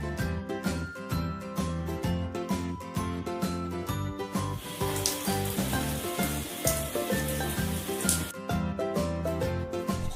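Shower water sprays in a steady, hissing rush through the whole stretch, mixed with an upbeat children's music backing.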